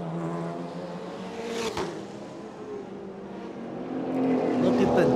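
Race cars on a Chonburi street circuit, a Nissan GT-R chasing a modified Toyota AE86, roar past in a steady engine drone that swells louder toward the end, with commentary voices running over it.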